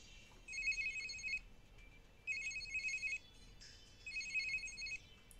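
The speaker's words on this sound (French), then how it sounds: "Et puis le docteur Liskinen a reçu un appel sur son téléphone." A telephone rings in a quiet room, giving three separate bursts of electronic ringing with short pauses between them and no voices.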